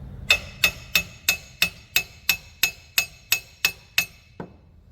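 Twelve evenly spaced metallic hammer taps ring out close and alone, the last one softer, as a wheel bearing is driven into place in the rear differential of an R31 Nissan Skyline with a Borg Warner rear end.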